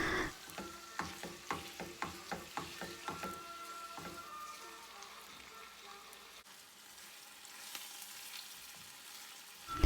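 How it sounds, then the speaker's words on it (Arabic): Chicken frying with softened onions in oil, with a rapid run of clattering stirs early on, then steady sizzling that settles into a quieter hiss; no one speaks. "بضيف بقى الفراخ بعد ما البصل بيتدبل شوية"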